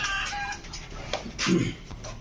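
Pigeons at a fancy-pigeon farm, including a German Beauty, give a short burst of throaty cooing and calling, moderately close, over a busy background hum.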